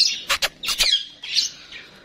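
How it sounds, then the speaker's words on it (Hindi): A pet parrot squawks in several loud, harsh bursts, two quick calls followed by a longer one, then fainter cries trailing off, near and alone in a village yard among pigeon flocks in Punjab. "हमारे पैरट ने शोर मचाया हुआ"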